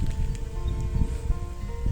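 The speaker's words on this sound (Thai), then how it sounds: "นี่ได้ยินเสียงลมไหมคะทุกคนเย็นมากค่ะ" Steady wind rushes and rustles low and close outdoors at Khao Sawai, Surin, Thailand, a continuous blustery texture with no talking.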